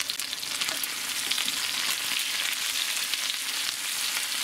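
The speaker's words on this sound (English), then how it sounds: "I want you to give this all a good stir." Ground beef and chopped dried mushrooms fry in a pan, a bright, dense sizzle close up with faint scraping from stirring, no voices.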